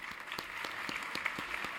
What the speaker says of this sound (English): you certainly deserve our applause